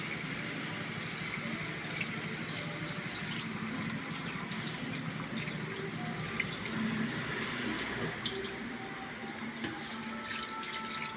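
Fresh coconut milk is poured into a cooking pot for duck kaldereta, a steady close splashing and trickling of liquid that runs the whole time with no talk.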